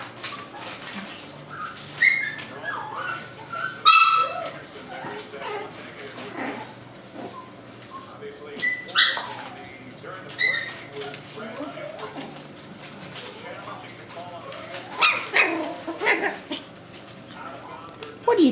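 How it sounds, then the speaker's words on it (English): Puppies whimper and yip in short, high-pitched bursts scattered throughout, with a person talking in between. "Go play with the other puppies, Lucy"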